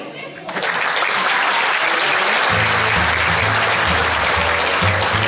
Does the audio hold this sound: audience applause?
yes